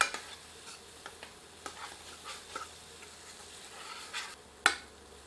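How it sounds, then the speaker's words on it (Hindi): Ginger garlic paste is stirred and fried with onions over low heat: a soft, continuous sizzle punctuated by light, irregular scraping strokes of a spoon and one sharper knock near the end. "इसे प्याज के साथ मिलाकर 1 मिनट धीमी आंच पर भूनते हैं"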